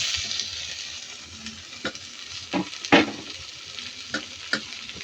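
Onion and tomato sautéing in a pan for a fish curry to serve with tapioca: a steady soft sizzle with a few sharper stirring scrapes and clicks of a utensil, fairly close, with no talking.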